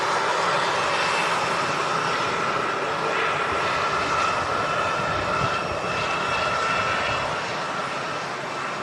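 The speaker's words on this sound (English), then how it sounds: "There goes the Gulf Air Dreamliner" A Gulf Air Boeing Dreamliner rolls down the runway at Manchester Airport, a steady loud broadband engine roar that holds constant throughout with no voices over it.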